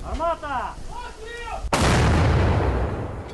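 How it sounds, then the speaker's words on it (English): Ukrainian artillery fires on Russian front lines with a single loud, sharp blast and a long rumbling roll that follows. Voices sound faintly before the shot. "Ukrainian troops have been firing artillery at what U.S. officials say is an unsustainable rate as they try to break through Russian front lines"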